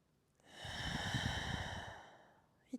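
A single slow, deep breath during prenatal yoga, a soft airy exhale swelling and fading over about two seconds, quiet and close, with a faint sniff at the end and no talking.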